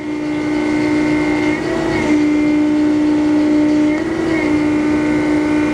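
A Harig E-Z Surf 6 by 18 inch CNC surface grinder running with its table traversing at variable speed, a steady mechanical hum with sustained tonal whine and brief pitch shifts at each table reversal.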